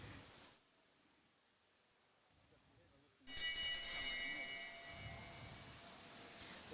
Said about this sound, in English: So the bell to get us underway.